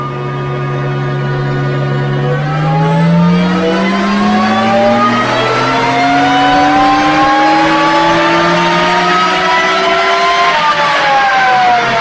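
A Nissan GT-R with a flex fuel engine runs up at maximum boost on a dyno, a loud, sustained, rising engine roar climbing smoothly in pitch for several seconds without speech.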